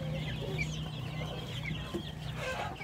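Goliath chicks chirp softly in their brooder, making faint, scattered peeps over a steady low hum that continues throughout.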